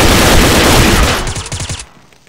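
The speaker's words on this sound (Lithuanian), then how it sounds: "nuo tanko į mane šaudo" Rapid bursts of gunfire from a tank in the shooter game Combat Arms, loud and dense for over a second, then a few trailing shots before cutting to near silence.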